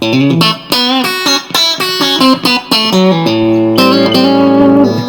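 A Squier electric guitar plays a clean tone through an amp with reverb added, loud and close: a run of picked single notes and chords, then sustained ringing chords, with no talk.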